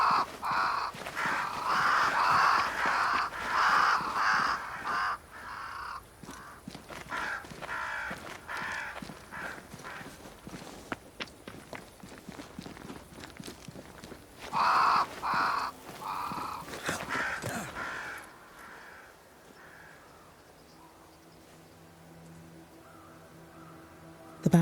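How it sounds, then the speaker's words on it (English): Crows caw repeatedly in the video game Banishers: Ghost of New Eden, flocking near a great tree, with loud bursts of harsh calls that thin out and fade into quiet ambience near the end. "They flock to that great tree up there."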